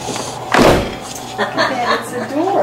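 A door thuds open with a heavy knock, followed by quieter shuffling and faint voices in the background.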